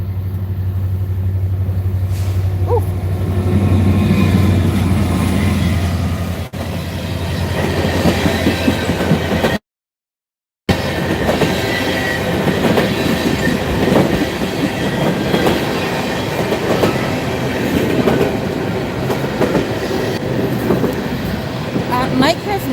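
A train running on rails, a loud continuous rumble with rhythmic clickety-clack and rattling wagons, briefly cut out near the middle, with a voice speaking over the early part.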